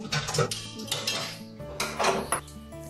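A pot and utensils clatter on the stove while an egg cooks in anchovy soup with seaweed over low heat. Close, repeated metallic clinks and scrapes come in short bursts, with a brief pause midway.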